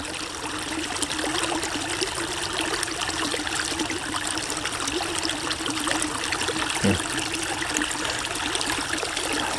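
Creek water trickles and burbles steadily around a stone, a continuous close, soft rushing flow with no other sounds.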